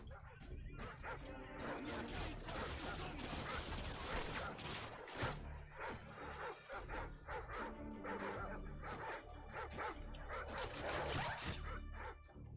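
Dogs bark and yip repeatedly in Call of Duty: Modern Warfare 2, mixed with dense gunfire and game noise throughout, with voices over the top.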